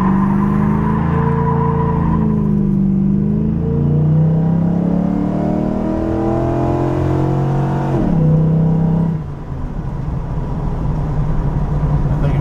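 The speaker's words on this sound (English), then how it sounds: "Been doing a little tuning on the car." Close, loud engine of a tuned car revving and accelerating, its pitch climbing steadily through a gear, then dropping sharply and settling into a lower rumble near the end, with no talk over it.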